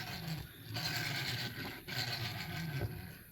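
A Hot Wheels Land Rover Series II toy car with a wobbling front wheel rolls back and forth close by, giving a continuous rattling, grinding whir of small plastic wheels.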